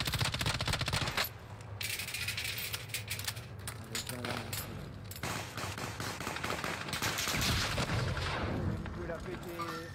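M13 rifle fire in Call of Duty Warzone Resurgence, heard as loud continuous gameplay noise with bursts of shots and battle sounds running through the whole stretch, with voices talking over it.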